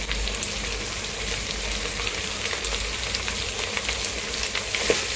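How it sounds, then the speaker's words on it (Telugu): Carrots, coriander, mint and curry leaves fry in a pan for biryani, giving a steady, dense sizzle and crackle that holds evenly throughout, with no voices. "కాసేపు వేయించుకున్నాం."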